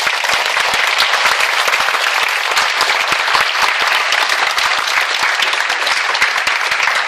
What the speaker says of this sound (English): Let's give him a big applause again.